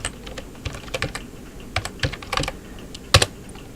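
A password is typed on a computer keyboard, about a dozen crisp, close keystrokes in irregular bursts with one harder final key press, no talking.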